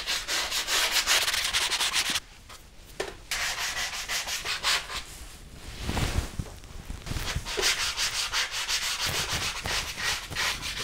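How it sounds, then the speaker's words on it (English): Hand sanding of dried ceiling compound with 120 grit sandpaper on a bedroom ceiling, a steady run of scratchy back-and-forth strokes that pauses briefly and then resumes, close and fairly loud with no talking. "we're gonna be knocking out all the high spots with our 120 grit sandpaper"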